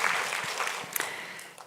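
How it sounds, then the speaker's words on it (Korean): A church congregation bursts into applause after a scripture reading, a dense, steady patter of many hands clapping at moderate distance that carries evenly through the short burst and tapers slightly at the end. "우리 박수로 격려하겠습니다"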